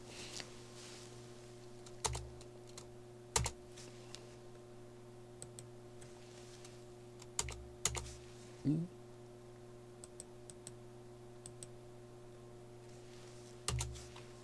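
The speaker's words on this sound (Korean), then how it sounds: "F2 키 눌러서 제동기업 엔터 치시고요" Sparse, faint keystrokes on a computer keyboard during business accounting software entry, a handful of isolated clicks spread across a quiet room with a low steady hum underneath.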